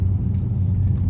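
Passenger cars rolling past a truck stop at night, a steady low rumble of tyres and engines close by with no one speaking.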